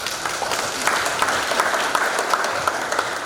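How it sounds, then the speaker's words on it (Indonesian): An audience at a job-opportunity outreach event in a church claps continuously at moderate loudness, with a dense, steady patter and no voices over it. "Aplaus dulu beliau."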